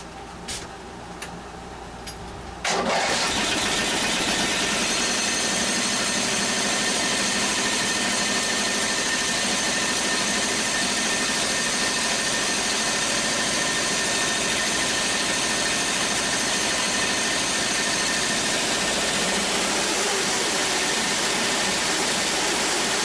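A small-engine vehicle with newly swapped chain sprockets starts up a few seconds in and runs steadily and loudly nearby, holding a constant hum with faint ticking for the remainder.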